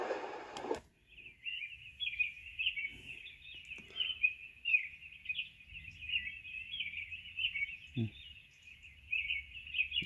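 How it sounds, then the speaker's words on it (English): A white noise sound machine plays its singing birds setting, a faint, continuous high chirping trill held over a quiet background with no talking. "How about some singing birds?"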